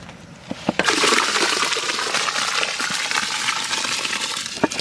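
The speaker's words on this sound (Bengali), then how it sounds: "চালটা ঢেলে দেবো।" Rice poured into a pot of heated, salted water with bay leaves and garam masala for egg prawn rice, a continuous broadband rushing pour lasting several seconds, fairly loud, preceded by a few small clinks.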